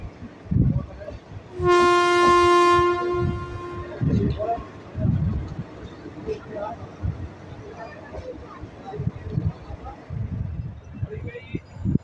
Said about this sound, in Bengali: ট্রেন কাটোয়া ঢুকছে এখন।